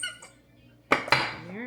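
A knife slices through dough for chin-chin snacks, giving two sharp clacks against a cutting surface close by after a quiet stretch.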